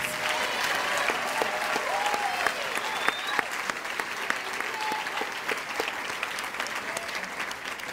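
Sustained, dense applause from a large audience honoring the NFCA First Team All-American players at a softball national championship banquet, steady and loud throughout with crowd murmur mixed in.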